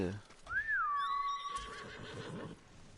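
A horse in the video game Ghost of Tsushima whinnies once, a high, wavering call that rises and then trails off, followed by soft background noise and faint voices.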